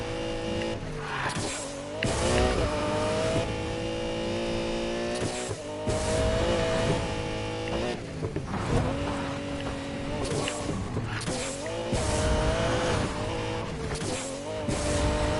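A Lamborghini Murcielago supercar racing in the Need for Speed Payback video game, loud engine roaring and revving with repeated gear shifts and tire squeals through turns, game music underneath.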